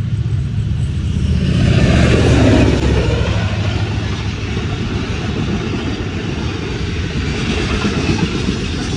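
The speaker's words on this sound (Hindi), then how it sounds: "अच्छा वो वहाँ से घूम रही है ट्रेन, वो देखो ऐसे गोल।" A train rumbles along the rails at steady, fairly loud volume, swelling slightly near the start and then holding a continuous low roar with no talk.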